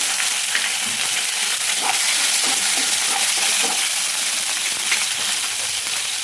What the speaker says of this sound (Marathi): मिरच्या पण तळून घेऊ। मिरच्या छान तळून झालेल्या आहे।